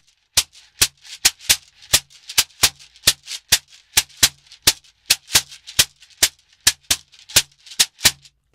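A shekere played with the right hand in a 6/8 bell pattern, about twenty-five sharp, dry rattling strikes in a steady lilting rhythm, close and clear with no talking.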